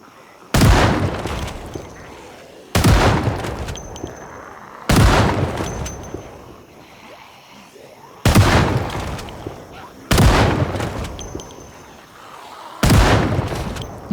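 Loud gunshots in a zombie shooter video game, six heavy booming shots spaced about two seconds apart, each trailing into a decaying rumble, with a voice speaking between them.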